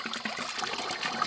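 Water flowing steadily out of a disconnected heater hose on a 2013 Toyota Sienna during a heater repair, a continuous close splashing gush with no talking.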